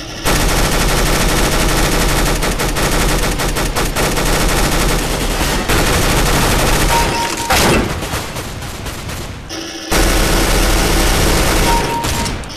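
Loud, sustained automatic gunfire in Counter-Strike: Global Offensive, rapid bursts nearly continuous for about ten seconds with a brief gap before firing resumes, no talk.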